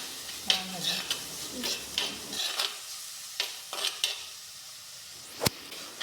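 Tomato frying and being stirred in a pan for Kerala fish curry, with a steady soft sizzle under repeated scraping strokes of a spoon, close and moderately quiet, ending with a sharp clink.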